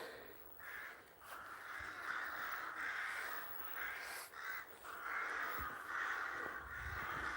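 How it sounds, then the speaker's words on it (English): Several crows caw repeatedly in the distance, harsh calls coming in irregular bursts over a quiet outdoor background at historic Shanrahan churchyard. "And you can hear the crows there"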